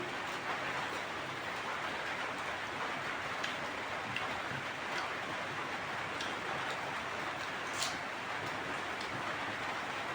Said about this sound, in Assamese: বৰষুণ দি আছে গম পাইছে